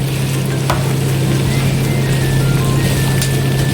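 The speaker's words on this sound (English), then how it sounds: "we'll just wait for this to get cooked and fully stir fried" Pork adobo with brown sugar stir-fries in a hot pan with a loud, continuous sizzle and steady frying hiss, broken by a couple of brief utensil clicks.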